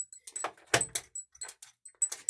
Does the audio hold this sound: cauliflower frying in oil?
no